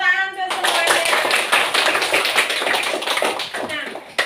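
Classroom clapping for everyone, a dense burst of many hands applauding together that starts abruptly after a brief spoken moment and continues steadily and loudly to the end.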